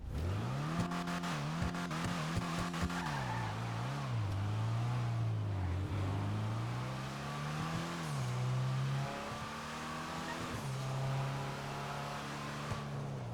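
Engine of a Bravado Dorado Cruiser in GTA Online, a steady engine drone whose pitch rises and falls repeatedly as the car revs and shifts, fairly faint and without talk.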